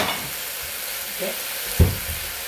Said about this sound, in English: So keep on sauteing it.